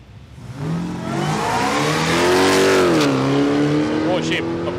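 A race car hot lapping at Palmyra Raceway during a drag racing event in Australia, its engine revving loud and close with rising then falling pitch as it passes, tires squealing, while a commentator talks over it.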